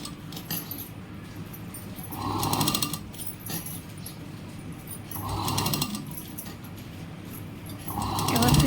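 A sewing machine stitches a blouse in three short whirring bursts separated by quiet pauses, heard at close range.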